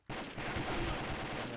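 Gunfire in the video game Combat Arms: a sudden, dense burst of rapid shots that starts abruptly and sustains at a steady, loud level.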